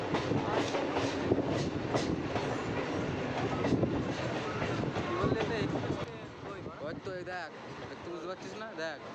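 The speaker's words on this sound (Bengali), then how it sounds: "ট্রেন আমাদের এসে পৌঁছেছে কালীনারায়ণপুর জংশন" A local train on the Ranaghat to Shantipur line pulls into Kalinarayanpur junction, its wheels rumbling and clattering steadily over the rails, then easing and quieting toward the end while people talk nearby.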